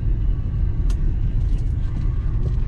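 A one-owner Dodge Charger R/T driving, with a deep, steady low engine rumble heard close from inside the car, fairly loud and continuous with faint higher noises on top.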